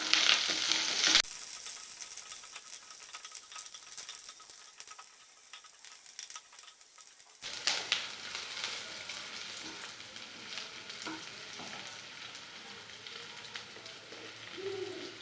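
Small shallots, chillies and curry leaves sizzle steadily in a hot pan for a bottle gourd and peanut poriyal, with a loud burst as they hit the oil, a quieter stretch, then renewed crackling frying with occasional stirring.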